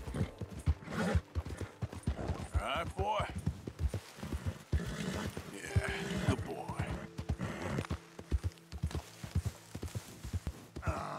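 Horse hooves clip-clop at a walk in Red Dead Redemption 2, close and rhythmic, with a horse whinnying and snorting while someone speaks briefly to it over the footfalls.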